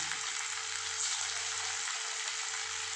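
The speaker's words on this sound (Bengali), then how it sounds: "বেশি ভাজবো না জাস্ট এপিট ওপিট অল্প একটু ভেজে উঠিয়ে নেবো" Paneer pieces fry lightly in a pan with a soft, continuous hiss of hot oil, even and unbroken for a few seconds, with no voices.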